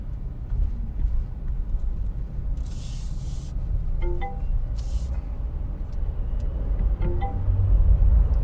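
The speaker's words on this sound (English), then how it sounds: "it's just a lot of traffic here in the southern suburbs" A Tank 300 HEV hybrid 4x4 rolls through heavy suburban traffic in eco mode, with a steady low road rumble and tyre hiss, plus a few short hissing bursts and soft chimes.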